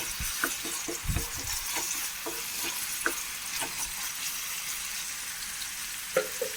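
Chopped onion and a little sliced garlic fry in a pan with a steady, close sizzle, broken by scattered scraping taps of a spoon stirring, with no talking.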